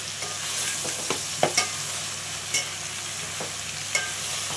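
Tomatoes being stirred into sambar in a frying pan: a steady soft sizzle with several scraping strokes of the spoon against the pan, close by and with no voices.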